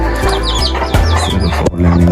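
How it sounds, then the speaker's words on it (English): Fowl and chickens clucking close by in a rural hillside yard in Smithville, Mocho Mountains, a rapid chatter of short clucks and squawks, loud and continuous with no talking. "See the fowl and chicken now."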